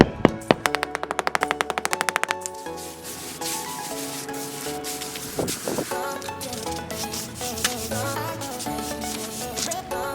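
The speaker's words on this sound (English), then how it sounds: "Just giving those pavers a tap with the rubber mallet is just going to help that sand settle right to the bottom." A rubber mallet taps paving stones to settle bedding sand while replacing a broken paver: a quick burst of a dozen or so sharp, evenly spaced knocks near the start, then quieter scattered taps under steady background music.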